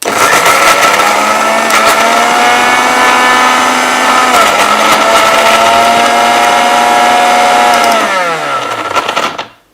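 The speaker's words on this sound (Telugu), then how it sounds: "మిక్సీ జార్ ఫిక్స్ చేసుకొని మిక్సీ పట్టండి" A kitchen mixer grinder runs steadily, blending chopped vegetable pieces for a juice, its motor whining loud and continuous before winding down and cutting off near the end.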